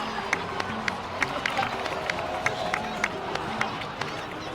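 A crowd in the video game Genshin Impact claps and cheers at a moderate distance, a steady wash of applause with sharp individual claps popping out.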